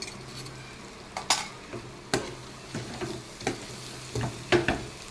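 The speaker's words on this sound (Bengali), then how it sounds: "মশলাটা কিন্তু ভাজা হয়ে গেছে।" A utensil stirs fried spices with turmeric and salt in a pan, giving irregular scraping clinks against the metal over a soft, continuous sizzle, close and clear with no talking.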